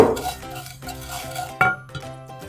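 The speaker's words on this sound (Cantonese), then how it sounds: "先將啱啱嗰少少蝦皮用白鑊烘佢" A small amount of dried shrimp dry-roasts in an oil-free wok, with a short run of close scraping and tossing, a light clink of the utensil against the metal, and a faint crackle.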